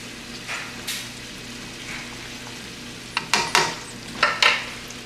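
Fresh green beans cook in a pan, giving a soft steady sizzle broken by several sharp clinks and scrapes of a utensil against the pan, mostly toward the end.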